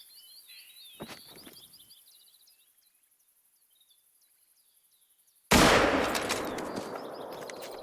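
Birds chirp and trill faintly in open bush, then a single sharp, loud rifle shot cracks close by and its echo rolls out across the landscape during a lion hunt.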